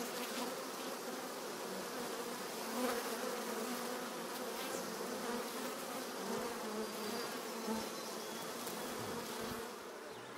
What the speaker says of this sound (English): I got a bee buzzing around me.